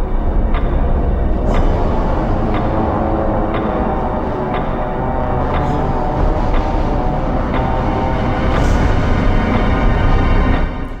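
Original Resident Evil dining room music from the video game plays steadily throughout, a dense, full-bodied score with soft recurring accents and no voices.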